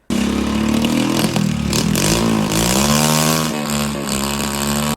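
A homemade motorcycle engine revs loud and close, its droning pitch rising and falling through several throttle blips with a rattling mechanical edge and no voices.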